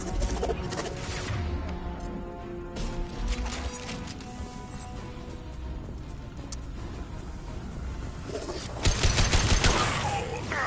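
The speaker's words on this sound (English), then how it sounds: "Firing concussive shot!" A concussive shot fired in a video game, one burst among continuous dense gunfire, blasts and crashing across a loud battle, with voices partly under the din.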